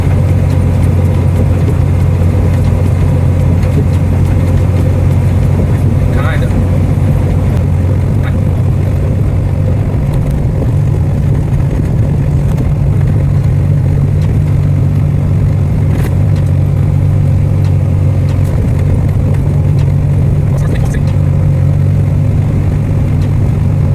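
Box truck engine rumbling steadily while being parked, a loud, close, low idle drone with a slight rise in revs partway through and no talk.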